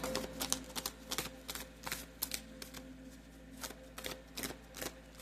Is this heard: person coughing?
no